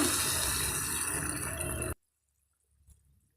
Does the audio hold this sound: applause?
no